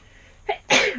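A single person sneezes close by, a brief inhaled catch followed by a sharp, loud burst, from someone suffering hay fever indoors.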